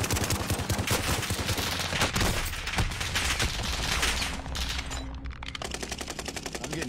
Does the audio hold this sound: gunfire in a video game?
yes